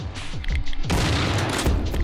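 A shotgun firing in Shrine, a Doom 2 total conversion video game, with a loud, dense blast from about the one-second mark that holds steady to the end. Quieter thuds come before it.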